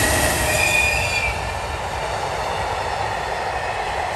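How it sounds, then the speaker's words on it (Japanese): A freight train rumbles past close by on Shinkansen tracks near the Seikan Tunnel entrance in Aomori, a loud, steady rolling roar with a thin metallic squeal early on that settles into continuous wheel noise. "あ、貨物列車ですね。"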